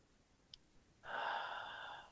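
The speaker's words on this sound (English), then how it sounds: "Noticing the sound the breath makes." A single slow, deep exhale during a guided mindfulness breathing exercise, a soft airy rush that swells and holds for about a second in a quiet room.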